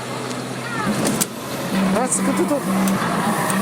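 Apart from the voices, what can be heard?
arcade racing car video game engine revving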